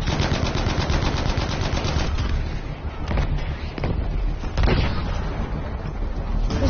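Heavy tank and artillery fire in a Modern Warfare video game: dense, continuous rapid bursts of gunfire and booming blasts fill the scene, loud and close, with a few sharper reports standing out.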